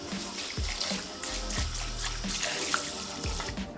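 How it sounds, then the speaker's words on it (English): Running water splashes steadily in a sink as a hair system is rinsed by hand, a continuous close trickle with faint low thumps throughout. "You want to make sure you rinse it really well."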